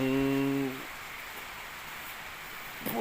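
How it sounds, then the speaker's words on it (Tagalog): Heavy rain hisses steadily throughout, with a brief low tonal hum at the start that fades out, and a faint thump near the end. "Lakas ng ulan."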